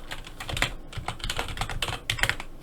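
Someone types on a computer keyboard while working a spreadsheet exercise, a brisk, uneven run of close key clicks with short pauses and no talking.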